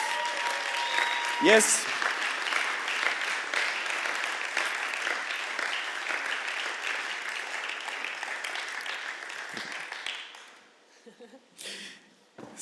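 At an ICF Basel church event, a crowd gives warm applause as two people come onto the stage. The clapping is steady and full for about ten seconds, then fades into scattered claps and a brief spoken word.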